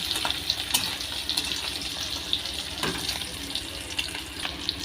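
Egg pieces fry in oil over a low flame, a soft, steady crackling sizzle with small pops scattered throughout, fairly quiet and close, with no talking.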